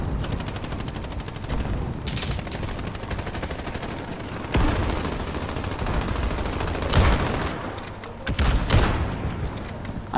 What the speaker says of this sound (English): I can't see him, okay, I'm just shooting